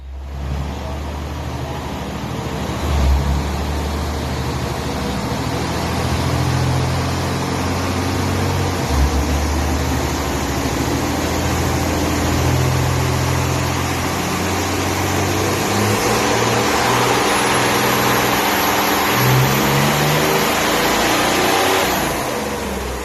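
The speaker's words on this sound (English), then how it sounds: "we will run it on the dyno and see what kind of power we can make" A turbocharged diesel engine with a VGT turbo running on a dyno, roaring loud and continuous with revs rising and holding, turbo whistle building near the end, with faint voices underneath.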